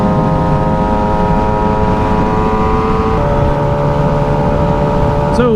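A 2007 Yamaha R6 with a full exhaust and Power Commander 5 sounds a loud, steady, tonal engine drone with a slight shift in pitch partway through, close and continuous with no talk.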